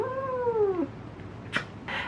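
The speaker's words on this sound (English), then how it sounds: "I guess we're starting the video with a cat cameo." A cat gives one drawn-out meow that falls in pitch, close and clear, followed by a couple of short soft rustles in an otherwise quiet room.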